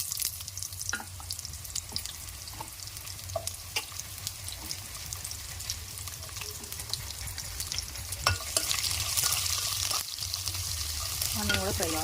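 Onion with curry leaves frying in a pan for fried rice, a continuous close sizzle with scattered stirring clicks and scrapes that grows a little louder toward the end.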